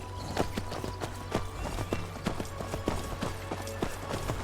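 Horse hooves clop on the ground in the video game Skyrim, a rapid, irregular series of sharp hoof strikes at a trot, close and fairly loud over a low steady ambient hum, with no talk.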